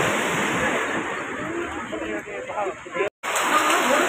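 Ocean surf at Marine Drive beach in Mumbai makes a broad, steady roar with wind buffeting the microphone. Voices are faintly audible in the background, and the sound drops out abruptly for a moment near the end.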